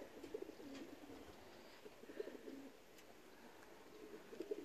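Racing pigeons coo softly at the loft, a few faint low coos repeating over quiet background noise.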